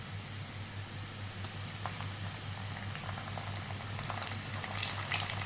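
Chopped onions and ginger garlic paste fry in a pan with a soft, continuous sizzle and faint bubbling crackle that grows slightly toward the end, with a low steady hum underneath and nobody speaking.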